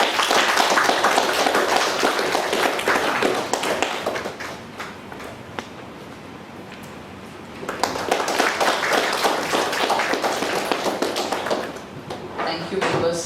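An audience at an income tax technical session gives the speakers a round of applause. Dense, tapping claps come in two bursts with a quieter lull between them.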